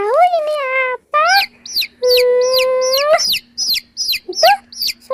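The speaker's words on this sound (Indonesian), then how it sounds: "Itu suara ayam." Loud chicken clucking and squawking, a rapid series of calls with rising and falling notes, close and alone, with a faint steady tone underneath.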